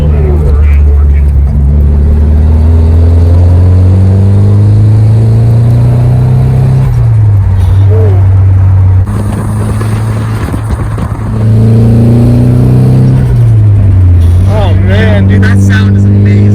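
Nissan 180SX Type X engine revving loudly and close, its pitch climbing and dropping in repeated pulls, with people talking over it near the end.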